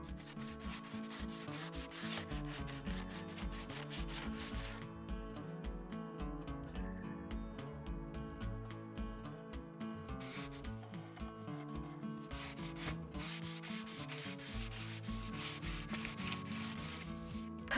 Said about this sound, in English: I'm just taking my 220 sandpaper on my sanding block, and I'm going to get off some of the chippy.